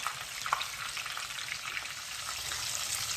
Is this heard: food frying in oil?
yes